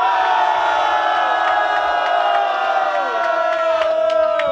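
A rap battle audience in Amsterdam roars and cheers to vote for a rapper, a loud, sustained wall of crowd noise with whoops and shouts running through the whole stretch.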